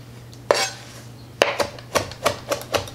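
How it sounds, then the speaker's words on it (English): A knife chops fresh parsley leaves on a cutting board in a kitchen: a single crisp knock, a pause, then a quick run of five or six close, sharp chops. "And then just give them a rough chop."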